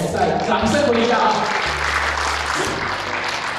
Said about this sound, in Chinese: 我们再掌声鼓励一下